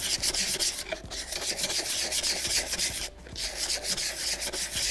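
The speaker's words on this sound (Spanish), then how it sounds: "Luego cogemos un trozo de lija y le hacemos en forma circular." Sandpaper rubbed in circles over a polyresin fountain piece built on a roof tile, a steady close rasping scrape with rhythmic strokes and a brief pause near the three-second mark.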